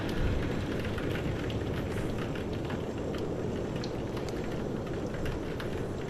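Steady wind and rain hiss continuously at moderate-low level, a dense broadband rush with faint scattered drips and crackles and no voices, holding evenly for about six seconds.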